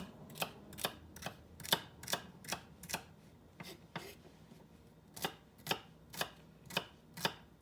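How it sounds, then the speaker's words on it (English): A knife slices celery thinly in a steady run of crisp, close chops, about two or three per second, each a sharp tap over a quiet background with no talking. "I'm going to take our celery and I'm just going to cut it real thin"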